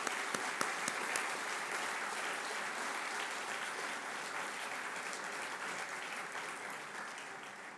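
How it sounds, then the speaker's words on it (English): Sustained applause from a conference audience at a closing ceremony in Dubrovnik fills the room, dense and even, tapering slightly toward the end. "One applause for our scientific committee."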